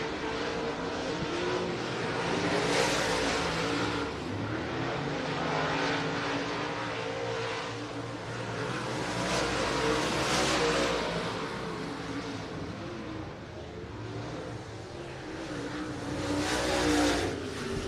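Modified race cars roar around the Florence Speedway oval, a continuous loud drone of engines rising and falling as the field passes, with repeated surges of revving in the pack and no voices over it.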